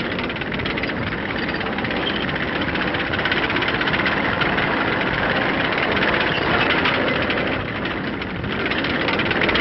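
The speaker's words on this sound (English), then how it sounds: "Version tanks. Rumbling up to spearhead the action to come." A loud, continuous heavy engine rumble with a vibrating low drone, steady throughout with no pauses, of tanks moving nearby in Korea in 1951.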